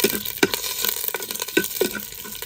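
Mustard seeds, urad dal, curry leaves and a dried red chilli crackle and sizzle in hot oil for rasam tempering, close and steady, with irregular sharp pops and spatters and a faint stirring scrape.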